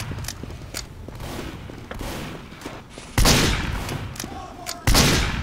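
Revolver gunfire in the video game Team Fortress 2, several sharp loud shots spaced a second or two apart over a busy background of other gunfire and movement.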